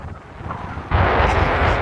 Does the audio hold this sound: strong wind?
yes